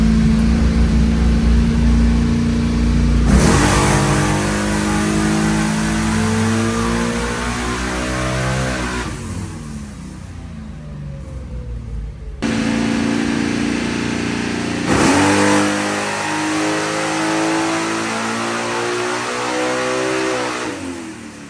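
A 1969 Camaro with a 396/375 big-block V8 revs hard on a dyno, climbing in pitch through several gear shifts, dropping off, then winding up again loud and close, with no talking.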